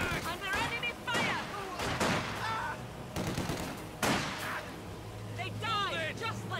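Enemy rifle and machine-gun fire from Company of Heroes 2 on the Soviet side, with sharp repeated volleys and sustained bursts spread across several seconds, mid-distance, under shouted voice lines and battle noise.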